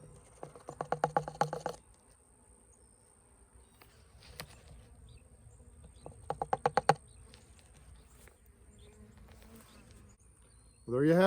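Honeybees buzz in short bursts near hives beside a pollen substitute feeder on a telephone pole in late-November South Alabama, brief fluttering passes close by against a quiet background, ending with a sudden louder sound.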